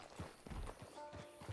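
Horse hooves clip-clop in a steady walking rhythm in the Red Dead Redemption Online video game, moderately close, with a faint tonal game sound drifting underneath.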